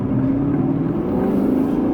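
A 2020 Lexus RC F Track Edition pulls away with a steady, moderately loud engine drone and rumble, alone and unbroken for a couple of seconds.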